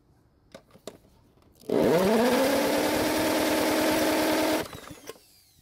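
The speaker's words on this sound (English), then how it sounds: "we'll need to use a drill to turn the engine over" A power drill spins up sharply and whines at steady high speed for about three seconds, cranking a PowerSmart mower engine that won't start, with a rhythmic chug underneath, then stops abruptly.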